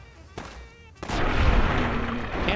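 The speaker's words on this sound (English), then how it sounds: "this old 4570 is really good at shooting robots up" A lever-action .45-70 rifle in Fallout: New Vegas fires at robots, with a sharp crack followed by a heavier booming shot that rolls into a long, rumbling echo.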